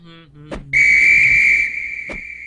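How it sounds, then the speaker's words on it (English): A single loud, shrill railway guard's whistle blast sounds for about a second, sharp and close, between a few brief thumps. "That sounds like a guard's whistle"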